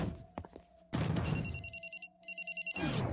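A telephone in an animated cartoon rings in distinct electronic bursts separated by short pauses, loud and close with no speech over it.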